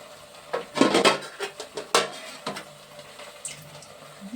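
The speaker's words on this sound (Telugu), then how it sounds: "గిన్నె పెడుతున్నాను దీని మీద." A metal cooking pot is set down on a stove, giving several clanks and knocks of metal, a louder cluster first and then a few lighter taps, close by with no talking.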